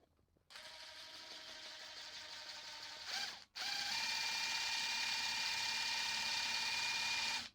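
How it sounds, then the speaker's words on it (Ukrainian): A DeWalt DCF887 impact driver runs at third speed with a buzzing mechanical rattle, stopping briefly after about three seconds and then resuming louder and steady, close up with no talking. "ви зараз почуєте, як буде деренчать 887"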